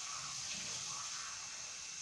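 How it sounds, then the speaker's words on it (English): A cup of water poured onto a pot roast gives a soft, steady splashing trickle for about two seconds, faint and close, with no talking. "I'm just gonna add a cup of water"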